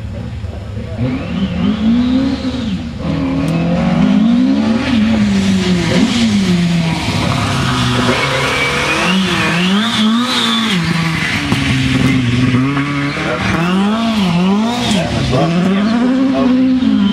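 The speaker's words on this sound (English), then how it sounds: "Most popular rally car ever." Ford Escort rally cars at Race Retro, their engines revving hard and rising and falling through repeated acceleration runs, loud and close, with a person talking over the engine noise throughout.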